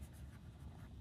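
Chalk or marker writing on a board during an operations research lecture, a faint brief scratching over about a second with a low room hum and no speech.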